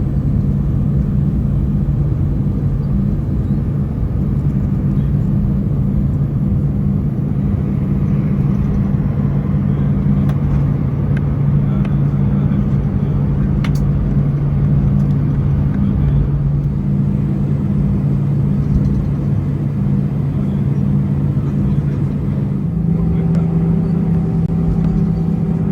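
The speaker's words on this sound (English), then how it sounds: "We're taxiing onto the active runway for our departure to Amsterdam." Steady low engine rumble and hum inside the cabin of a Lufthansa Airbus A319 taxiing toward the runway for departure from Frankfurt, continuous and fairly loud, with a new tonal whine joining near the end.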